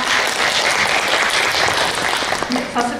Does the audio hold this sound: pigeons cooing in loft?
no